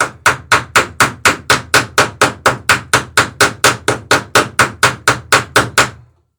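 Rivets are hammered on the laps of wooden boat planking against a backing block, a steady run of about twenty evenly spaced ringing blows, loud and close, stopping abruptly at the end.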